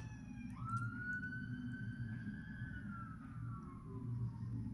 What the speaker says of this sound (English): I had to let that siren go by